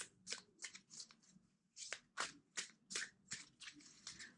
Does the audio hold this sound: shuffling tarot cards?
yes